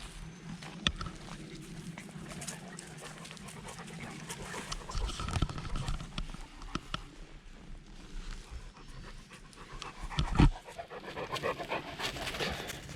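Dogs pant steadily at close range outdoors at an old homesite in a cove, with occasional footsteps, shuffling and a few sharp knocks mixed in.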